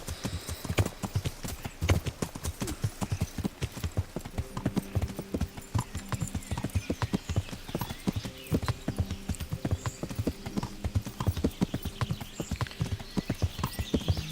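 Horse hooves clip-clop steadily while riding in the video game Kingdom Come Deliverance, a continuous rhythmic run of close, sharp hoof strikes that lasts the whole stretch with no talk over it.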